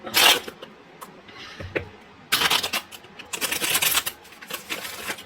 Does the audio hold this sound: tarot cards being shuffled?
yes